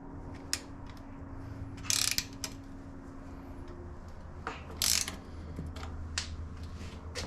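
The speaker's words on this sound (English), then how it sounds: "But if you have a ratchet, turn it around, right?" A ratchet wrench turns a bolt on a BMX bike, giving quiet bursts of quick clicking ticks at intervals over a faint steady hum, with soft handling taps between.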